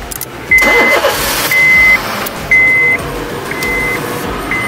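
A car engine turns over and starts via an aftermarket push-button start-stop system, with a repeated electronic beep sounding several times over the running motor.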